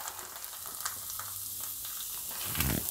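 Mung beans hit a hot pan of oil with red chilli and green coriander for a Gujarati dry shaak, a close, continuous sizzle and crackle with a louder stirring scrape at the end.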